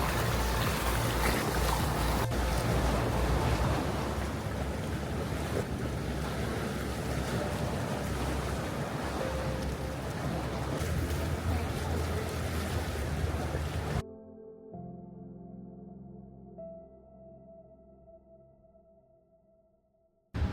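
Waves wash steadily at a cave beach on Croatia's Adriatic coast, a dense surging roar for about fourteen seconds before it cuts to a much quieter, thinner background.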